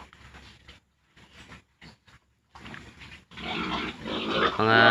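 Pigs in a backyard farm pen grunt in short, scattered bursts with pauses between, then grow louder and more continuous near the end, close by.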